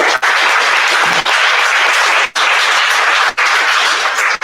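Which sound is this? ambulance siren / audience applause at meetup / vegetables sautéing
audience applause at meetup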